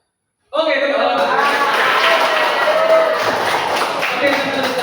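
A class of students claps their hands in a classroom, a dense, steady patter that starts abruptly after a brief silence and holds for several seconds, with faint voices mixed underneath.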